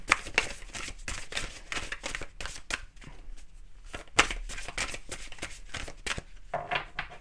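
Tarot or oracle cards being shuffled and drawn up close: repeated quick riffling and flicking bursts of paper rustle with short pauses between, fairly soft and unaccompanied by talk.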